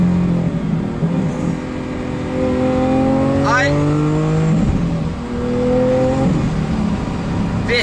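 Mansory Carbonado Lamborghini Aventador Roadster engine revving loudly up through the gears from close range, with rising harmonic sweeps and a sharp spike mid-run while people talk over it.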